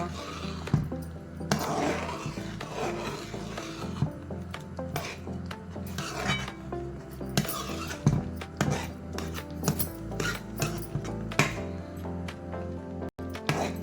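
A thick flour mixture stirred in a pot on the stove, giving soft, irregular scraping and rubbing with occasional light clinks of utensil against metal, close and fairly quiet.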